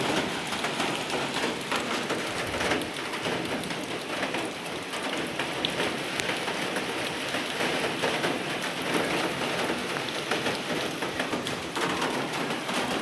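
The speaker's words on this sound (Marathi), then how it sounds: "तुम्हाला पाऊस दाखवते किती जोरात पडतोय आणि काय भारी पाऊस पडतोय" Heavy monsoon rain pours down in a dense, steady hiss that stays loud and unbroken throughout, with no voices present.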